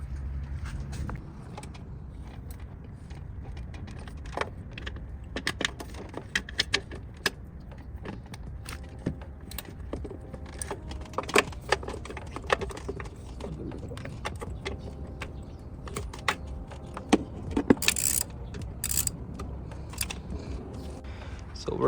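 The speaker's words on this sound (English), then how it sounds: "So we're taking off the last bolt." Bolts being removed from a BMW F30 intake manifold, with scattered metallic clinks, ratchet clicks and tool taps over a low background rumble, irregular and close.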